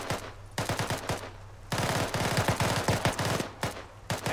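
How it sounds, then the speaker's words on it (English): Gunfire in the video game ARMA 3, bursts of rapid automatic shots in rattling volleys, some fainter and distant, others close and loud, with brief pauses between bursts. "they're shooting at him"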